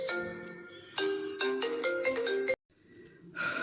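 Mobile phone ringtone chiming a bright melodic pattern in a home kitchen, loud and close, cutting off abruptly then resuming faintly.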